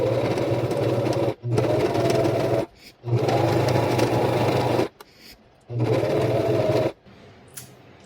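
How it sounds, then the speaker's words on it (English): Sewing machine stitching over bulky fabric, running in three steady loud bursts of whirring, rattling motor noise separated by brief pauses and soft handling sounds, ending in quiet. "I'm gonna pray that my sewing machine can fit"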